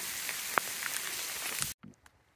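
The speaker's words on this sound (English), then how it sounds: "Now we're walking in hail." Hail falling while hiking on the Appalachian Trail, a dense steady patter of hard pellets striking surfaces nearby, continuous and hissing before cutting off abruptly, followed by a few faint scattered hits.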